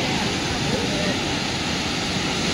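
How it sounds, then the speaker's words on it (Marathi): Waterfall at Bhivtas, a steady dense roar of falling water filling the scene evenly and loudly, with no breaks. "तर हा आहे देवतास आपला धबधबा बघा"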